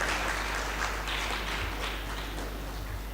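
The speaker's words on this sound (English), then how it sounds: "Another round of applause for our keynote speaker" A lecture-hall audience applauds a keynote speaker at a memorial lecture: steady, dense clapping from many hands fills the room throughout, with no voices over it.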